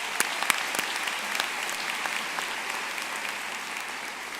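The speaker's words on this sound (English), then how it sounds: "Will you please join me in another round of applause for the beach volleyball team?" A large audience at a Florida Atlantic University spring commencement ceremony applauds the beach volleyball team with steady, dense clapping and a few sharper nearby claps, sustained at an even level throughout.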